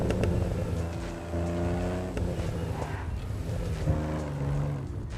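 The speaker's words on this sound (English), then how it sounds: "Sterling GT is the best sounding car in GTA." A Sterling GT sports car in GTA Online runs with a loud, steady engine drone and shifting revving tones, held near and continuous throughout with a brief dip midway.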